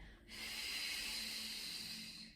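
A long, loud exhale of breath close to the microphone, a steady airy rush lasting about two seconds.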